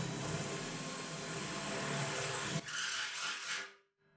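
A drill grinds steadily through a metal drum at close range, its pitch shifting near the end before the motor winds down and stops.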